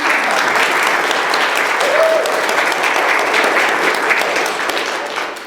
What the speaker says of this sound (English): Can we clap for all of these kids that are about to